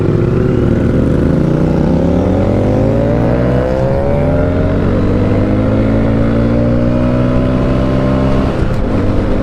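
A vehicle accelerates away nearby, its engine note climbing steadily in pitch through two gear pulls, loud and continuous, with a Honda Grom idling or running close by.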